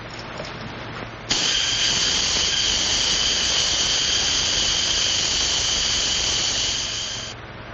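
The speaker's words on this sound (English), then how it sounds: "Turn on the steam." Steam is turned on and hisses loudly, a sudden, steady high-pitched whistling rush that holds for several seconds before easing off, set in a 1937 film scene.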